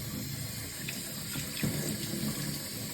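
Juicer parts get rinsed under a running kitchen tap, a steady close hiss of water splashing into the sink with small shifts as the parts move under the stream.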